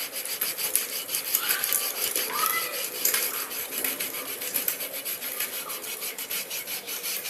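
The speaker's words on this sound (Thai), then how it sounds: "คราบเกลือสนิมที่เกิดขึ้นกับรถนะฮะค่อยๆขัดออกไป" Steady back-and-forth scrubbing of rusty bicycle parts with a paste of multipurpose cleaning powder and water, a close gritty rasping that continues evenly throughout with no voices.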